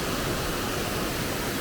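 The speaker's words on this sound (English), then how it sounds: "best waterfall I've seen in Thailand so far" A waterfall in Songkhla Province, Thailand roars as a dense, steady rush of falling water. It is loud and unbroken, with no voices over it.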